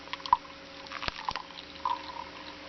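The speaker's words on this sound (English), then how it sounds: "You just pour water in the top in the coffee grounds." Water poured into a single cup coffee brewer over coffee grounds in an off-grid camper produces faint drips and small splashes, a few soft liquid plinks in quiet surroundings.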